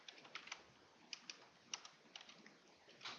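Code being typed on a computer keyboard, with quiet, irregular key clicks in short bursts and brief pauses between them, close and alone.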